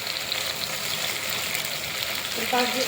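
Chopped okra sizzles loudly in hot oil for an egg and okra curry, a dense, continuous frying hiss with stirring noises mixed in.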